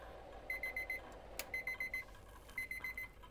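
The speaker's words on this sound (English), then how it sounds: "You can hear our timer beeping." An electronic timer for rose gold jewelry plating beeps in quick bursts of four high tones, repeating three times in a quiet room.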